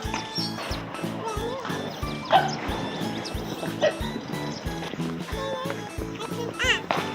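A dog barks repeatedly in quick, steady bursts close by during an outdoor morning walk, with a child and an adult talking over it.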